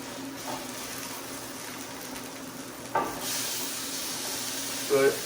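Pork and bacon burger patty sizzling in a frying pan, a steady soft hiss with brief louder bursts of spatter, faint and close.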